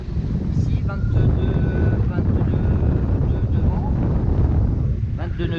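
A sailboat reaches with the wind at 90 degrees in about 22 knots near the Saintes, making a continuous loud wind roar and rushing water with microphone buffeting and a few faint creaks.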